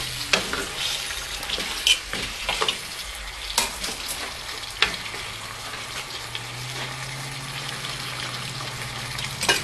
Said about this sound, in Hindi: इसमें अब हम चिकन डालते हैं। अब हम मिक्स करके